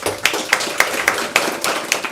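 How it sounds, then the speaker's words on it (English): Sparse clapping from a small audience thanking a panel at a book launch on urban loneliness, a handful of distinct, fairly loud claps at a loose, uneven rhythm over a quiet room. "please, if I can ask you to give an applause to the panel here today"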